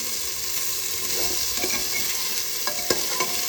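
Chicken sautés in a pan with a continuous sizzle, broken by several sharp scraping and clinking stirs of a utensil toward the end, heard up close.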